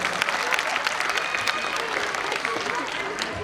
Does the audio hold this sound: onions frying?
no